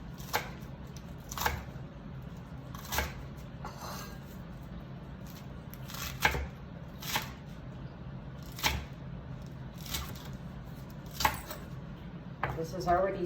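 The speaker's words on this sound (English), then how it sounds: "I'm going to chop up some romaine" A knife chops romaine lettuce for a green salad, sharp single knocks on the board spaced roughly every one to two seconds, fairly quiet against a faint room background.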